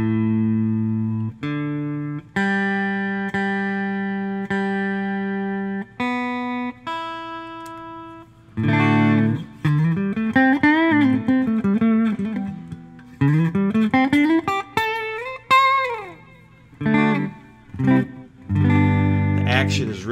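Squier electric guitar played through a semi-clean amp channel, sustained chords giving way to a run of bent, wavering single-note licks and then more chords, loud and close.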